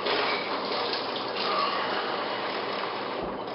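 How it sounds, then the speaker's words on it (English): Lukewarm water runs from a kitchen tap in a steady, even hiss, close and unbroken, while dough is being mixed for perogies. "So I'm just going to get some more lukewarm water"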